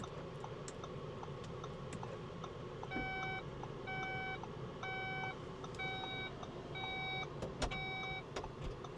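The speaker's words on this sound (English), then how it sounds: "if I close the hatch back," As the power rear hatch of a luxury SUV closes, it gives a series of evenly spaced electronic warning beeps over a low, steady background hum, heard close by.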